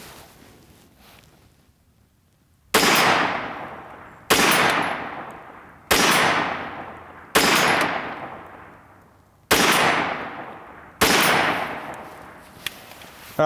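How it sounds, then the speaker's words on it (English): Six sharp, loud 9mm shots from a Kel-Tec pistol caliber carbine fired at a 50-yard target, each spaced about a second and a half apart, each crack followed by a short ringing decay, with no talk. "shooting these pistol caliber carbines at 50 yards"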